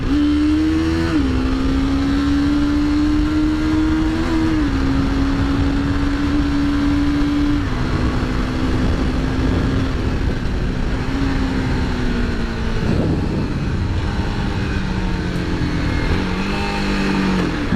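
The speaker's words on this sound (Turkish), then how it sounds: "Biraz daha gaza basayım araba geliyor." A motorcycle's throttle opens on the move, and the close, continuous engine note climbs and shifts in pitch over about eighteen seconds. It rises again near the end over a bed of wind and road noise, with no speech.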